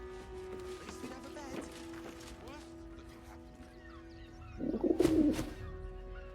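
A pigeon coos in Baldur's Gate 3, a soft rounded burst that swells loudest near the end over a steady hum of game ambience and faint chirps, with a voice speaking in the background.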